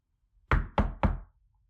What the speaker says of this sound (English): A soft rapping on the door interrupted your wallowing.